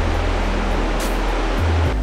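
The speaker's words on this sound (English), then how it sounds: "Just checking the waves." Ocean waves break on a shore on a bright day, a steady loud roar of surf with a brief swell of hiss, close and continuous without voices.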